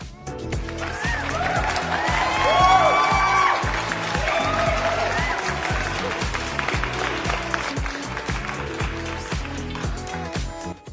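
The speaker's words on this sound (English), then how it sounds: "Let's give her a round of applause." Studio audience applauding a talk show guest as she is welcomed onstage, a loud sustained wash of clapping lasting the whole stretch, swelling early and then holding steady.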